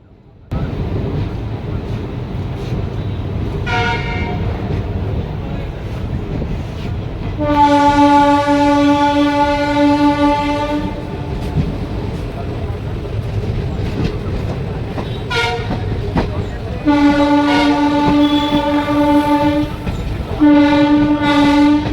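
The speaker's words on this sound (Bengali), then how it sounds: "আমাদের ট্রেন এখন পার হচ্ছে আবাদা স্টেশন।" The Aranyak SF Express between Shalimar and Bhojudih rolls through Abada station, heard from on board: a constant loud roar of wheels and wind, with two long horn blasts and a few shorter toots.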